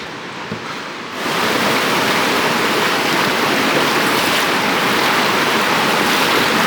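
Rushing river water roars in a steady, dense hiss through a canyon narrows, swelling up after a quieter first second and staying loud throughout, close by.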